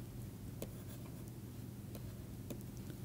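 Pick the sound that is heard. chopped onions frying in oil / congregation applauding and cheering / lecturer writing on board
lecturer writing on board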